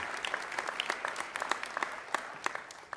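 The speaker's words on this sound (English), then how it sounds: "How about a warm round of applause for our trustees?" A seated audience at a college presidential investiture claps for the trustees, steady, moderately distant applause with scattered sharper claps standing out, fading slightly toward the end.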